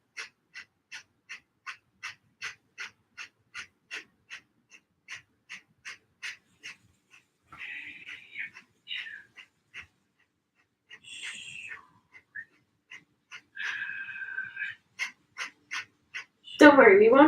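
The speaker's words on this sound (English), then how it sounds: "And short, powerful snips of air." Rapid, forceful Breath of Fire breathing exercise: a steady train of about two dozen short, sharp exhalations close to the mic, pausing briefly mid-way with some softer breaths, then resuming before a louder sound at the end.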